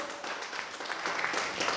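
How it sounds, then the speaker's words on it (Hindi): A church congregation applauds, a short burst of steady clapping from a crowd at moderate distance. "क्या ताली बजाओगे जोर से?"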